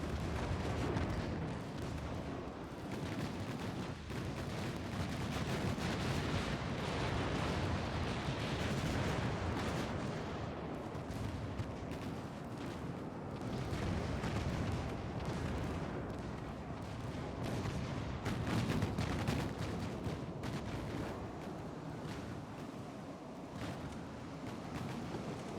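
Battleship naval artillery in the naval warfare game Ultimate Admiral: Dreadnoughts, a dense, continuous rumble of heavy gunfire and booming detonations rolling on without pause.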